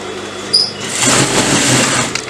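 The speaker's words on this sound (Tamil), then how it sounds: "ஒன்ஸ் வந்து தைச்சு முடிச்சாச்சு" A sewing machine stitches a seam in fabric while a Salwar pant is taken out to make it looser, a short steady mechanical whir running for about two seconds after a brief click, close and fairly loud.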